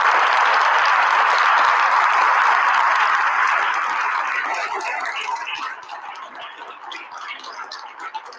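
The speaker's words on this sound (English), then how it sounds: "give the retirees one last round of applause" A school board meeting audience applauds retirees, with loud, dense clapping that gradually thins and tapers off into scattered claps toward the end.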